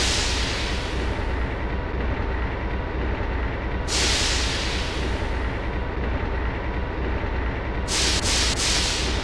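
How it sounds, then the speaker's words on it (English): A train in the video game Resident Evil 2 gives a loud, continuous mechanical rumble with hissing surges at regular intervals, dense and steady throughout and heard with no talking. "Now, from the sound of it, I won't be catching the train."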